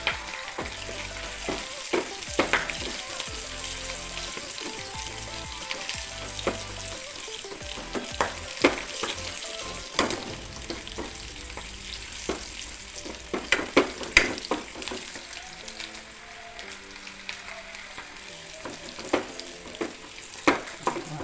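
Ginger, garlic and green chillies fry in a pan with a loud, continuous sizzle, broken by frequent scraping and stirring knocks from a spoon against the pan, with no voices.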